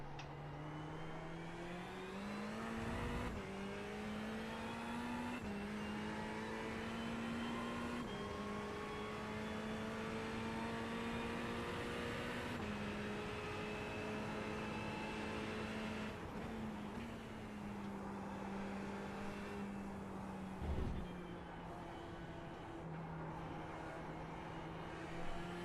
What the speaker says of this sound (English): There's a gang of cars up here.